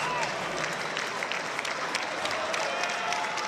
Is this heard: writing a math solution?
no